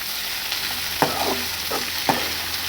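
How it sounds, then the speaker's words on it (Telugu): Cluster beans fry over high flame in a pan with a steady hiss, and a utensil stirs them in a few distinct scraping strokes. "గోరు చిక్కులు వేసి బాగా వేగనివ్వాలి. హై ఫ్లేమ్లో పెట్టి వేగనివ్వాలి."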